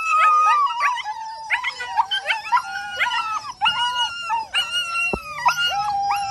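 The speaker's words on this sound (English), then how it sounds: "Look at this little pup right here trying to chew through the panel." A young puppy howls and whimpers in repeated rising, wavering cries while chewing on a panel, loud and close, with a brief knock partway through.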